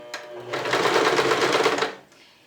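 A sewing machine runs a short reverse stitch on a thermal therapeutic cushion, a fast, even mechanical rattle lasting about a second and a half, close and clear, with no talk.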